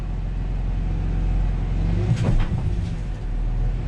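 A 54,000-mile original Ford F-250 pickup with brakes stuck and dragging slowly moves off, a low engine rumble and drivetrain drone with a brief louder surge and knock midway.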